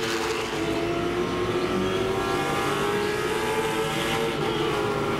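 Late model stock cars roar around the Langley Speedway oval, a steady loud engine drone with layered revving as the Dunkin' Donuts 55 runs in a tight pack, no voices over it.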